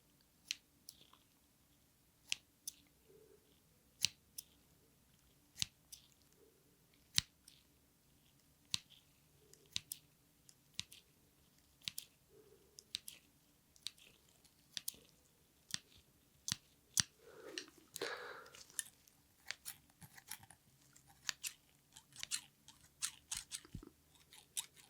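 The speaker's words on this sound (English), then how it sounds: "Now I'm going to come in and do some little slow cuts here" Scissors make slow, soft, crisp snips through hair, isolated clicks spaced apart with a brief rustle in the middle, close and intimate in a quiet room.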